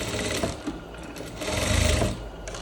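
Sewing machine running a backstitch at the end of a seam on pleated trousers, a steady close mechanical whir with a rhythmic needle patter that swells louder near the end, no talking.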